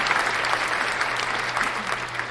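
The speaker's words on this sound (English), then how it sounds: "Gotta give Shay a round of applause," A brief round of applause fills a casual talk show, steady, dense clapping from a small group over a faint low hum, lasting a couple of seconds.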